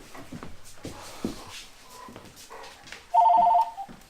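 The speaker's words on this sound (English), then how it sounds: "Oh, now we got another phone call." A household telephone gives a short electronic ring burst for an incoming call near the end, after quiet shuffling and small background noises.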